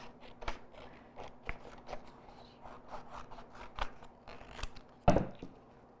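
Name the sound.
scissors cutting a colour card board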